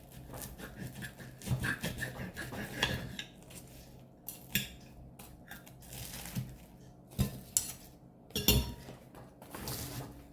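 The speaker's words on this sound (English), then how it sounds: "Ooh, listen to that. Now that is crispy." A crispy Wenzel's vegetable slice pastry is cut, giving several close, faint crackling crunches in irregular bursts with quiet gaps between them.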